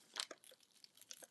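Paper being torn in an art studio, a few quick close ripping and crinkling sounds in short bursts, fairly faint and without talk.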